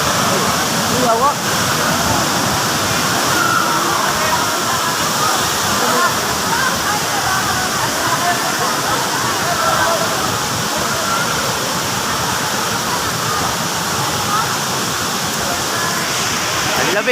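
Waterfall at Jay Jay Taytay Falls in Laguna, a loud continuous rush of falling water filling the scene, with voices faintly under it.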